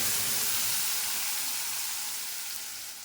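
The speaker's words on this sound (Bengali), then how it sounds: "ভালো করে মশলাটা কষিয়ে নেব।" A paste of white mustard, tomato and green chilli fries in fish-frying oil with nigella seeds, a dense close sizzle and hiss that holds loud and steady, then eases slightly at the end, with no voices.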